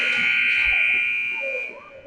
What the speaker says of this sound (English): Shot on net. Slightly after the buzzer, but that's unavoidable.